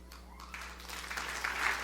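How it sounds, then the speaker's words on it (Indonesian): A church congregation applauding during a sermon, a short swell of steady clapping that grows slightly louder toward the end, heard from a distance over a low hum. "Ayo tepuk tangan lebih meriah, katakan haleluya."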